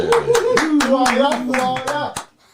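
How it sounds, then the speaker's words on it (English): Talk-show audience clapping to welcome a Birmingham City football legend as a guest, with brief sharp claps under a continuous voice that keeps talking over them. "We always like to give our guests the clap"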